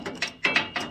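An ATV and lawnmower jack worked with a wrench, giving three quick, close ratchet clicks in a steady rhythm.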